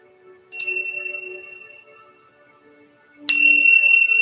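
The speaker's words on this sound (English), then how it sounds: "we will close our short little meditation together with our chimes" Meditation chimes ring out twice in a quiet classroom, each a bright metallic strike that hangs and slowly fades, the second as loud as the first and still sustaining at the end.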